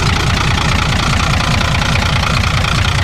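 A swapped Isuzu engine idles in a 1976 Ford highboy truck, a loud, close, steady chugging rumble with an even pulsing rhythm and a slight knocking character throughout.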